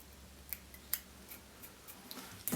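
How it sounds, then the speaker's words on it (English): Small scissors snip at fly-tying materials for a black marabou muddler streamer, a few faint, sharp clicks spaced irregularly across a quiet tabletop. "I'll just take my scissors"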